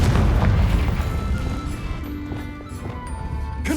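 A Confringo spell explosion in the Hogwarts Legacy video game, a loud, close, deep boom with a rumbling burst that slowly fades and swells again over a few seconds, with no talk.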